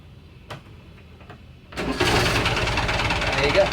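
A boat's diesel engine cranks and catches after its glow plugs preheat, starting at about 1.8 seconds and settling into a loud, steady rumble. Before that there are a couple of faint clicks and low background noise.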